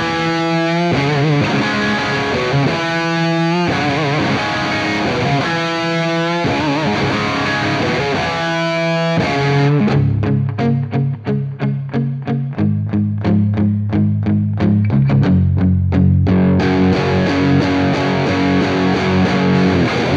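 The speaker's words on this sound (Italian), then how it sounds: "Vado ancora più su con la distorsione così vi faccio sentire fin dove può arrivare." An electric guitar plays through a mini amplifier with the distortion turned up high, first in repeated chord strums, then in heavier chugging power chords with dense, saturated crunch, loud and alone.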